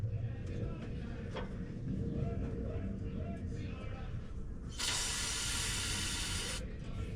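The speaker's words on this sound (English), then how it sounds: "Spray a little more." Aerosol spray onto an engine line of a 1990 Ford truck, a faint steady hiss under a low engine rumble, then a brighter, louder blast of spray for about two seconds before stopping.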